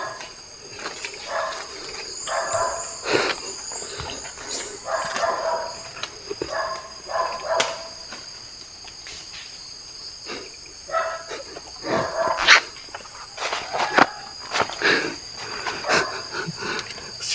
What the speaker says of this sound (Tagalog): Tinatawa sila ng aso.